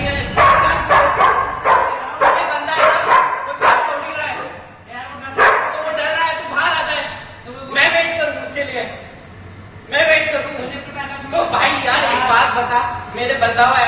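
A dog barks repeatedly in sharp bursts with some yips and whimpers as its owner insists on taking it into a lift with other people, while voices talk and argue over the barking.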